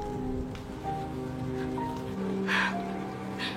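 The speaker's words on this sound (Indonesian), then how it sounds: "Di tengah hujan lebat" Heavy rain falls as a steady soft patter with occasional louder splashes, mixed with a faint sustained musical tone in the background.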